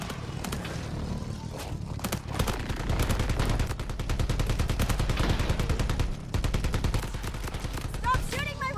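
Rapid bursts of gunfire from Borderlands 4 run throughout, dense and sustained over game sounds, with a few brief pauses.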